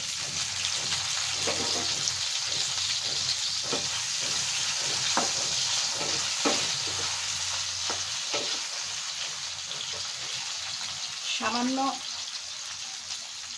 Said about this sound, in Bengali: মাছ ভাজা তেলেই আমি বেগুনগুলো একটু ভেজে নেব।